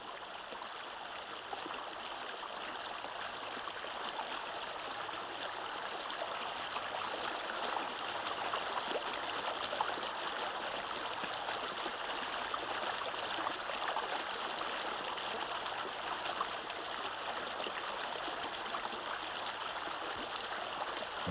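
A mountain stream flows through subtropical rainforest in the Scenic Rim, a steady, even rush and babble of water that continues unbroken throughout, moderately close and without voices.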